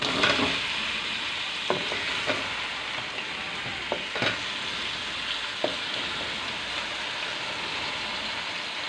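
Mutton pieces and liver sizzle and fry in a pan with ginger paste, a steady loud crackle with occasional sharp pops and stirring clatter, no voices.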